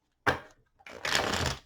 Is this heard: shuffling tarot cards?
yes